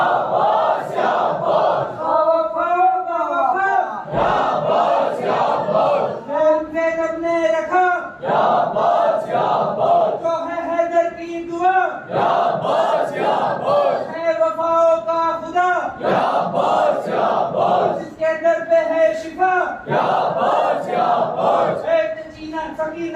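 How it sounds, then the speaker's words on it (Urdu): A crowd at a religious majlis gathering chants slogans for Mola Abbas in loud, rhythmic call-and-response bursts, voices swelling together repeatedly over about twenty seconds. "تو نعرے بھی جو ہے مولا عباس کے ہونے چاہیے نا۔"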